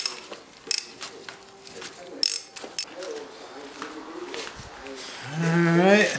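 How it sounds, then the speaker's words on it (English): Ratcheting clicks and metallic clatter from a socket wrench loosening header bolts on a 2001 KLR 650 engine during a top-end rebuild, close and intermittent, with brief voice sounds near the end. "Now I'm just taking the header bolts out, and then I'll try to take the head off."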